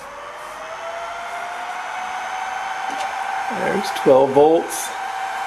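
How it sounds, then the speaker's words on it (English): Several small cooling fans on a DIY fan bar for a solar inverter give off a steady, fairly loud whir and hum that runs throughout. Someone speaks briefly over it near the end. "All fans are running."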